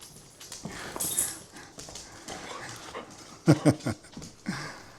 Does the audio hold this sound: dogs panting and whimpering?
yes